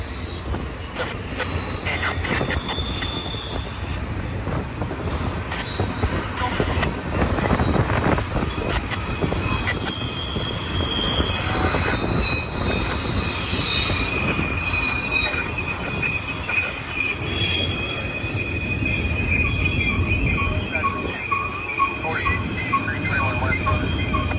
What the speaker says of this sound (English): That's a Z train out there, as in zebra, on main track number 1